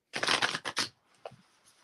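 A quick riffle of cards being shuffled, a crisp burst of flapping and ticking, then a couple of faint taps.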